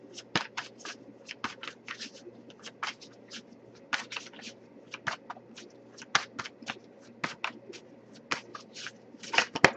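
An Aqua Moonlight tarot deck is shuffled by hand, producing a quiet, irregular run of crisp card slaps and riffling clicks that come in bursts across the whole stretch.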